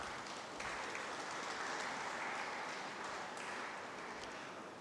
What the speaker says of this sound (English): Let us welcome our guests for the evening with a huge round of applause.